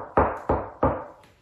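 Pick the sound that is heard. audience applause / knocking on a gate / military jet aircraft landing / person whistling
knocking on a gate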